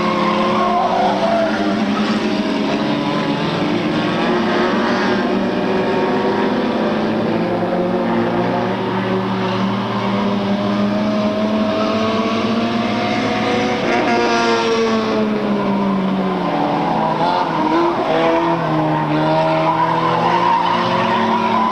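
Race cars roar around a dirt-dusted track at speed, engines howling loud and continuous with shifting pitch as they pass, a VTEC-powered car out front and tires skidding on a slippery surface.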